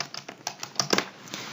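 Quick bursts of key presses on a computer keyboard while working in AutoCAD, a dozen or so close, crisp clicks in an uneven rhythm, with no talking.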